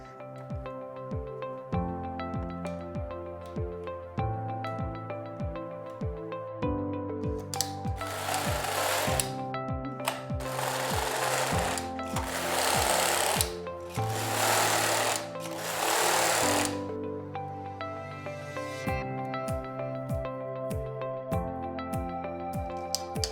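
A Passap Duomatic 80 knitting machine knits a 2x2 industrial rib on a striped sweater: steady, rhythmic mechanical clatter and repeated carriage passes, loud and close, with harsher bursts of rattling in the middle and no talk.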